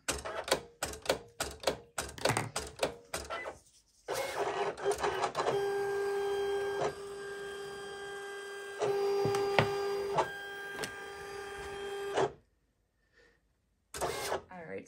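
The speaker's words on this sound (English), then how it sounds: "The blade's already in my machine, so we're going to cut it out." A craft cutting machine cuts a tag from thick cardstock with a bladed tool, starting with rapid mechanical clicks and then settling into a loud, steady motor whir with tonal hums, before going quiet near the end and briefly starting again.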